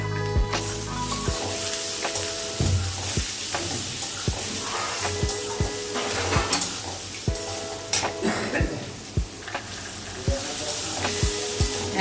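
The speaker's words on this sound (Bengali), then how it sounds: "এবার আমি ওতে টমেটো দেবো আর ক্যাপসিকাম দেবো। এইগুলো আরেকটু ভাজাবো।" Onion frying with added tomato and capsicum for an egg tarka crackles in a pan with a steady close sizzle, punctuated by frequent sharp clicks and scrapes of a spatula against the metal as the mixture is stirred.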